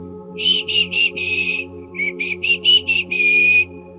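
A person whistles a short tune of quick separate notes followed by a longer held note, clear and close over a low motorcycle engine hum.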